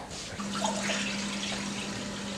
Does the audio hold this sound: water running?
yes